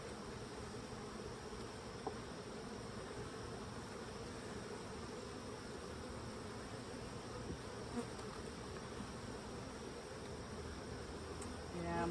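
Honeybees buzz during an urban beehive inspection, a dense, steady hum that fills the air close by and holds unbroken from start to finish with no voices.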